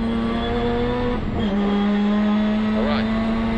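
A turbocharged 2003 Mazda RX-8 SP rally car holds a steady loud engine drone from inside the cabin, with a brief dip and pitch shifts as it is driven through a corner; speech is faintly present.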